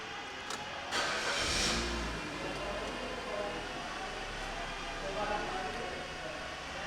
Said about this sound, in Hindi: गाड़ी को स्टार्ट करते हैं सबसे पहले।